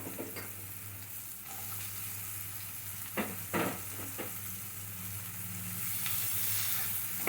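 Chopped onion, ginger and garlic fry in hot oil in a pan for chilli paneer, giving a steady close sizzle broken by a few sharp scrapes and clicks of stirring.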